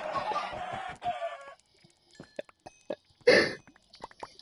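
Chickens clucking in a video game: several short, bursty clucks and squawks in the second half, isolated and moderately loud, after a dense stretch of clucking at the start.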